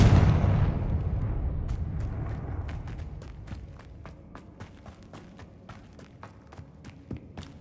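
A Confringo blasting spell from Hogwarts Legacy gameplay bursts loudly at the start and decays into a rumbling tail, followed by a run of sharp, repeated crackling impacts that continue at a fainter level.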